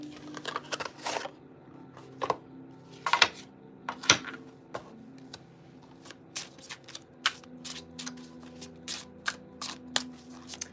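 A Gothmancy Tarot deck is shuffled by hand in a quiet room, with crisp bursts of riffling and sliding cards broken by short pauses and a few sharp taps.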